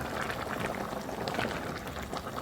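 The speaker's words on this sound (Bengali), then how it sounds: "চিংড়ি মাছের তরকারি রান্না করতেছি" Shrimp curry simmers in a pot with a steady, dense bubbling and gurgling, fairly quiet and close, continuous throughout without any talking.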